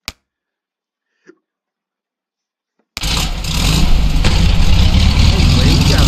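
A Hill Climb Racing car engine, upgraded with more engine power, kicks in abruptly after near silence and a couple of tiny clicks, then rises into a loud, steady droning rev that holds to the end.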